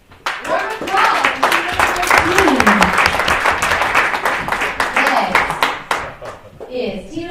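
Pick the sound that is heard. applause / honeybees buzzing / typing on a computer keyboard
applause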